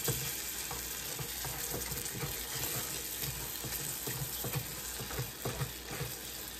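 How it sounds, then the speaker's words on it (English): A cup of butter with a pinch of salt and about half a teaspoon of vanilla cooks down in a pan, giving a steady close sizzle with rhythmic whisk scrapes and taps running throughout, no voices. "we're just going to let this cook and keep whisking until it reaches a almond type of color"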